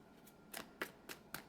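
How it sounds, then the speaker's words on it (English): Tarot cards being shuffled, several faint, crisp riffles and snaps at irregular intervals against a quiet background. "big shuffle"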